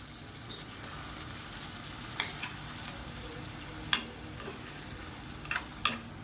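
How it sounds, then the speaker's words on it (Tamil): Egg thokku fries gently in a pan, a soft continuous sizzle with a few sharp scraping clicks as it is stirred, close and quiet, with no talking. "இப்போ மறுபடியும் நல்லா பரட்டி விட்டுக்கலாம்"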